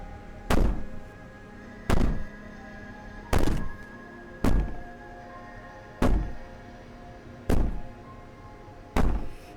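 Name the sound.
banging on a door, from a video game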